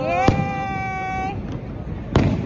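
Fireworks bursting over Niagara Falls: two sharp, loud booms spaced apart, while a person's voice holds a long sung or called-out note between them.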